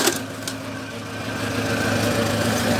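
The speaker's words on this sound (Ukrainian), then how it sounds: "майже на холостих мотор робив, як чути" A homemade generator's small engine idles steadily nearby, a low continuous chug with a faint mechanical whine and no talking.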